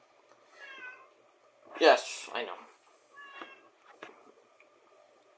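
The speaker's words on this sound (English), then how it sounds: "You might have heard my cat in the background." A pet cat meows several times at close range, short rising cries spread across a few seconds, with a person briefly speaking over them.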